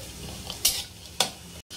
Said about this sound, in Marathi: अर्धा मिनिट खोबरं छान लालसर भाजून घ्यायचं आहे